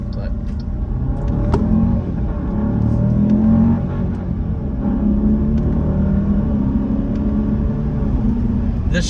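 A Jeep Grand Cherokee 4xe plug-in hybrid drives in frigid polar-vortex cold, its engine a low, steady rumble with mild surges of acceleration and road noise, loud and close from inside the cabin.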